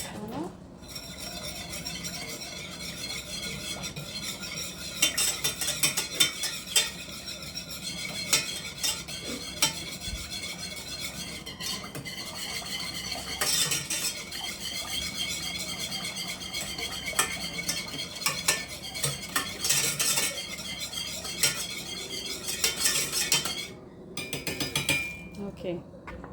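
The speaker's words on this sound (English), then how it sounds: "And then whisk this one up." Coconut sauce is whisked in a bowl, a fast continuous metallic swishing and clinking of the whisk against the sides, close and fairly loud, with brief pauses near the end.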